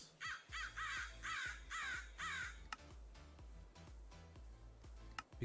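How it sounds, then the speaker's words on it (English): Crows caw in a Minecraft modpack set in a space station, five loud harsh caws in a steady rhythm over a low droning game background, followed by scattered clicks and ambient game noise. "Because it makes perfect sense that you can hear crows in space."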